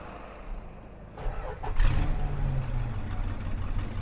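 A 1969 Plymouth Road Runner engine cranks and fires up about a second in, settling into a loud, deep, rumbling idle that continues steadily.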